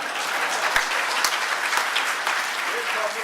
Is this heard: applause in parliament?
yes